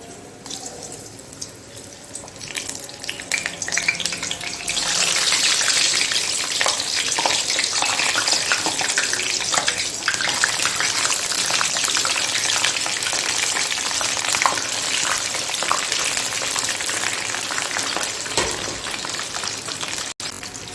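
Homemade samosa sticks deep frying in hot oil, a steady dense crackling sizzle that swells loudly after a few seconds and holds close and continuous, no voices.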